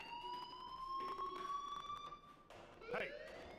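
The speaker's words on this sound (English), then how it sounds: "do you hear that fire alarm?" A fire alarm rings in the Life Is Strange video game, a steady electronic tone that holds for a few seconds, then shifts, with a brief siren-like warble near the end.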